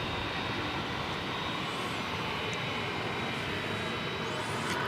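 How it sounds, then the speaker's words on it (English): A UPS freighter aircraft built in 1967 and first flown by Japan Airlines, heard at DFW Airport as a steady, loud jet engine roar holding level throughout, with no talk. "This particular aircraft began its flying career in the livery of Japan Airlines back in 1967."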